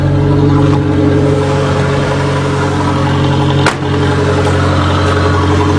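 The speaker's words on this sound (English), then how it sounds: "It's got a very, very low restriction exhaust, so it's running on high idle, and that's what it sounds like." An Aries turbo race wagon engine, cold, holds a steady, fast high idle through a very low-restriction exhaust, with a loud, open, droning tone and a brief blip partway through.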